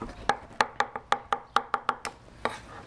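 A sharp knife chops through juicy tomatoes on a board in about eleven crisp, evenly spaced strokes, each a distinct close thunk, with a short pause before the final cut and no talking.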